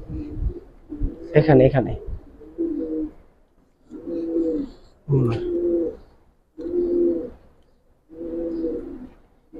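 Female Giribaz pigeon cooing in a loft, a series of soft, low rhythmic coos repeating at steady intervals, close by, with someone speaking briefly over the first ones.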